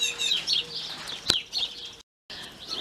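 Chickens cluck and chirp close by in a yard, a series of short, uneven calls with one sharp squawk midway, heard over quiet background.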